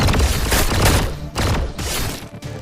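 Gunfire in the video game RF Online Next: a loud, dense burst of rapid shots and booms that rolls on for a couple of seconds, broken by a short gap, then resumes before fading.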